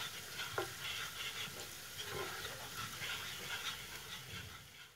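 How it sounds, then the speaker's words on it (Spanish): Ground pepper and cumin being stirred in a pan, a soft, steady sizzle with light scraping and stirring sounds throughout, fairly quiet and without speech. "Agregamos el comino molido. Seguimos removiendo."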